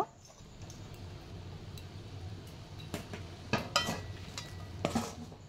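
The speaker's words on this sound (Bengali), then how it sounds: "আটাটা অল্প অল্প নিয়ে আলুর সাথে ভালো করে মিশিয়ে নেব।" Flour being worked into boiled potatoes in a pan, with a steady soft scraping and stirring and a few sharper clinks of a utensil against the pan toward the end.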